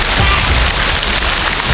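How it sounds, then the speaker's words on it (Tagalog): Steady, dense rain pours down outdoors in a constant hiss with no break and no voices, a heavy downpour soaking everything nearby. "Basang-basa na ako sa ulan."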